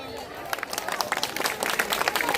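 Villagers at a village festival break into dense, quick clapping that rises to steady applause after a brief quiet start.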